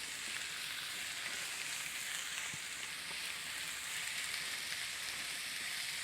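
Steak and onions cooking down in a pan for Puerto Rican bistec encebollado, a constant soft hiss of sizzling that stays even throughout, fairly quiet and with no talk over it.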